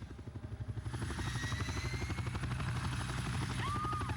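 Helicopter in the video game 007: From Russia With Love, a rhythmic rotor chop with turbine whine that swells in over the first second and then holds steady and close, no voices.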